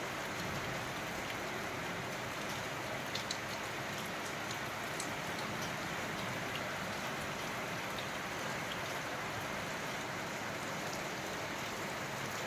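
Steady rain falls continuously, a dense even hiss of drops on surfaces with occasional brighter drips, moderately loud and unbroken throughout, with no talking.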